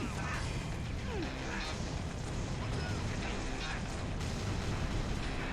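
Muffled booming frag grenade explosions and gunfire in Halo Reach, a dense, rumbling combat wash under a talking voice.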